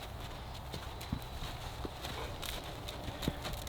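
Hooves of an exercise horse clip-clop as it runs, with a few sharper footfalls standing out over steady outdoor background noise.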